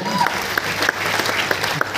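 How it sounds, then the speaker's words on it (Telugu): An indoor audience at a direct-selling meeting breaks into steady, dense clapping that holds for the whole stretch, fairly loud and close, with a few sharper claps standing out. "ఆ సార్కి ఒక్కసారి గ్రేట్ రౌండ్ ఆఫ్ అప్లాజ్ అండి"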